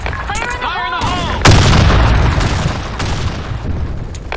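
A grenade goes off in the online shooter Blackshot, a loud close blast with a long rumbling tail following a short burst of game voice, and further bangs behind it.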